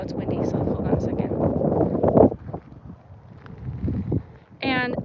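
Wind buffeting a microphone outdoors in Yucca Valley, low rumbling gusts that swell and fade beneath someone talking.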